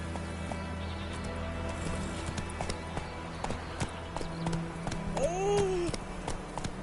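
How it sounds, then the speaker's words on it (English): Horse hooves clip-clop at a steady walking rhythm in The Witcher video game, fairly close and moderately quiet, with a brief whinny-like call near the end. "Whoa there, Roach"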